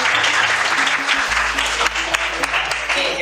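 Students in a classroom break into applause, a brisk burst of many hands clapping close by over a low steady hum, with no one speaking.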